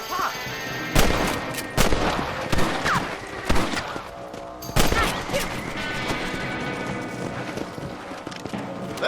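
Rifle shots at rabbits in the Red Dead Redemption video game, a few sharp cracks spaced apart over a busy outdoor bed of animal bleats and hoof clops, moderately loud, no talk.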